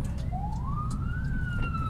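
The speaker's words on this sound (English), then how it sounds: "ambulance." An ambulance siren wails in a rising, sweeping tone on a road in Cradock, South Africa, heard clearly over a steady vehicle rumble with no talk.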